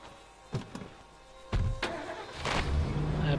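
A car's engine starts in the video game State of Decay: a few clicks and a door-like thunk, then the starter catches and the engine turns over and settles into a close, rising idle.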